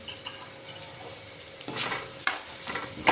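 A pan sauté of pounded, roasted ingredients for Khandeshi brinjal bharit: quiet stirring and light sizzling, with a few sharper scraping bursts toward the end and no talk.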